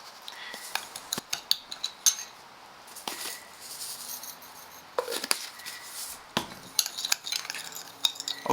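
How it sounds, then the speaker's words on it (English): Salt and spice rub being stirred in a bowl, with a series of scraping strokes and light metallic clinks from cutlery against the dish, close and fairly quiet, no voices. "Okay, so we got this rub all mixed up"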